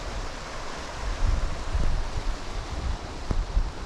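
Steady rushing water of a river flowing over rapids fills the scene, a broad wash of flowing river noise with small surges, heard close and continuous without any voices.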